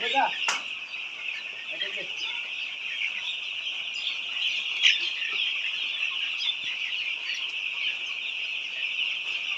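White layer hens cluck and call steadily on a poultry farm, a dense continuous chorus of many birds at moderate distance, with occasional louder squawks standing out.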